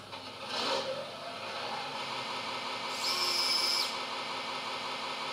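A small electric motor drives a 3D-printed model wheel loader, whirring steadily up close, with brief higher-pitched whines as it revs.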